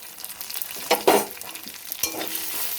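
Gobindobhog rice fries in a pan with cinnamon, cardamom and bay leaf, a soft sizzle broken by two louder scraping stirs, close and without speech.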